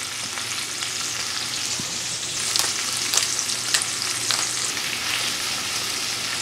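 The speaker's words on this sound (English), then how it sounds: "In goes my onions. We're gonna make the onions sweat." Onions sweating in a frying pan while a pasta all'amatriciana is being made, giving a steady close sizzle with a few light stirring scrapes throughout and no talking.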